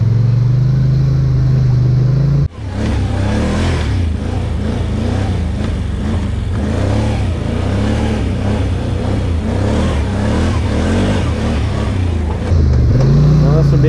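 Can-Am Outlander 850 XT ATV creeping along slow trails, its engine droning steadily close by with a brief drop near the start, while a person talks over it throughout.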